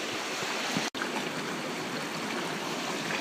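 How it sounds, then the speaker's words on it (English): Heavy stream water at Wanlockhead rushing as white water over boulders, a loud steady roar with a momentary break near the start. "A lot of heavy flowing water, a lot of white water going down some of the boulders."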